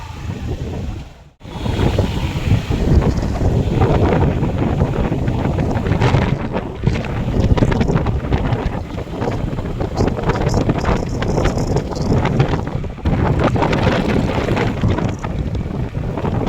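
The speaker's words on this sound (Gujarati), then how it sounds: "આજકાલ બહુ જ પવન છે" Strong outdoor wind buffets the microphone loudly and continuously, a roaring rumble with short gaps where it briefly eases.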